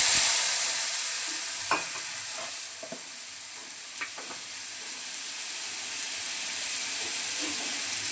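Cumin seeds, turmeric powder and a splash of water frying in hot oil for a hilsa fish curry, giving a steady close sizzle and hiss with occasional stirring clicks, no talk.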